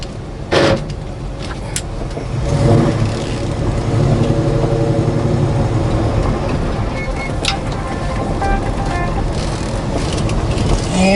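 A 1966 Chevrolet Chevelle SS engine running while the car drives, a steady loud rumble with a few sharp knocks and clunks, heard from inside and close throughout.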